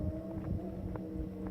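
Motorcycles on a nearby road give a low, steady engine drone that stays constant through the short stretch, with no talk.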